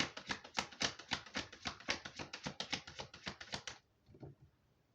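Tarot cards are shuffled in a fast, steady run of crisp riffling snaps for about four seconds, close and fairly loud, ending abruptly in near silence with a faint soft tap.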